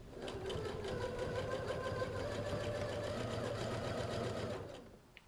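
A sewing machine with a quarter-inch foot stitches binding onto a quilt, a steady rapid mechanical whirring and clatter close by for several seconds before stopping, with no talking over it.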